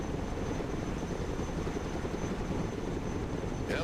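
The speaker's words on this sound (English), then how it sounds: "Helicopters are impressive machines. Boy, are they noisy." Chinook helicopters at a helipad in the combat video game Broken Arrow give off a loud, steady rotor and engine roar that fills the whole clip without a break.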